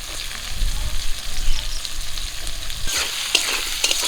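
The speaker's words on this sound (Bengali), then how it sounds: "পেঁয়াজ আর কাঁচা লঙ্কা ভেজে নিয়েছি" Onion and green chili fry in oil left over from frying fish, a close, continuous sizzle with stirring scrapes and a brighter crackle burst near the end.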